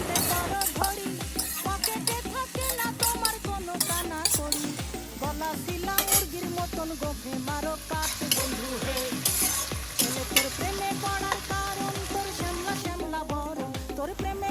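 Chopped onion and garlic fry with whole cumin in a pan for a mutton curry, crackling in a steady dense sizzle with rhythmic stirring scrapes over a continuous musical backdrop.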